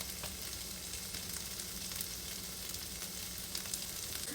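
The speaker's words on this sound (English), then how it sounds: "We're gonna let these go on high until they get a good sear on the bottom." Hash browns searing on high heat in a pan, a steady, close hiss of frying that runs without pause, with no voices over it.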